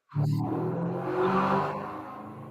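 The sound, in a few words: Mustang car engine revving outside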